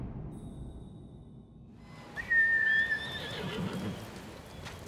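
A horse whinnies loudly in the Ghost of Tsushima video game while being ridden, a long rising neigh over steady clip-clop hoofbeats and ambient game sound.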